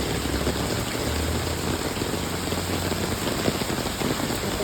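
Heavy rain pours down in a dense, steady roar on a road during a storm in Toronto, loud and close, with no voices.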